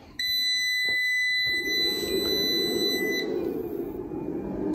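An MPP Solar inverter powering on gives a loud, sustained high-pitched electronic beep close by, holding for about three seconds before cutting off, over a low steady fan hum that continues afterward.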